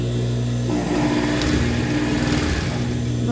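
A sewing machine runs continuously while stitching the hem on a child's dress sleeve, a steady motor whir close by with no talk.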